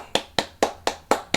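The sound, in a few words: hand clap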